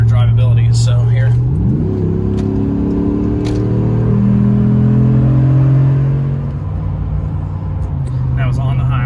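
A Ram 1500 pickup fitted with a K&N Blackhawk intake accelerates on a highway, its engine note climbing smoothly through a loud, sustained pull with a brief shift and steady road rumble underneath.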